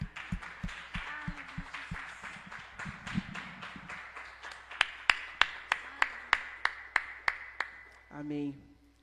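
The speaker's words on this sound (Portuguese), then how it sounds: "Aplauda o nome do Senhor Jesus." A church congregation at a family worship service in Curitiba claps in a steady, rhythmic beat that swells and sharpens, then stops as a voice speaks briefly at the end.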